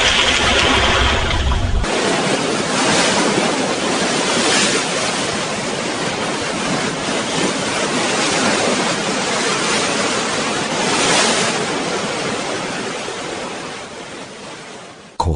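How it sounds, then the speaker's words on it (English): Ocean surf rolls steadily after a brief rushing burst at the start, a broad and continuous wash of waves as a burning meteorite falls into the sea, loud and even before fading near the end, with no voices. "A great burning meteorite falls into the sea."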